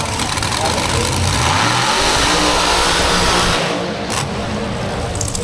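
Drag race cars running at high speed, roughly 170 mph, on the Bristol drag strip: a loud, sustained engine roar fills the whole stretch, with a commentator talking over it.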